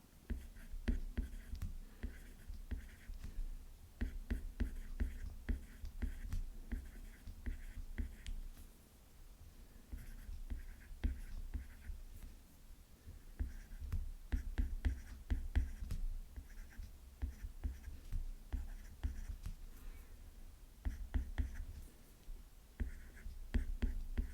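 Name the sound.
writing an example sentence by hand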